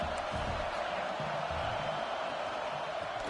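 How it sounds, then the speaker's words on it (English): A college football stadium crowd at Texas A&M versus UCF produces a steady, dense, distant roar throughout the clip, with no distinct cheers standing out. "This crowd trying to make life miserable for this offense."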